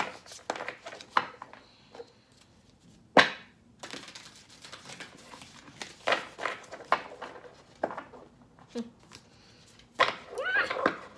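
Tarot cards being shuffled, with quick papery riffles and slaps in irregular bursts, close and fairly quiet, with soft speech in between.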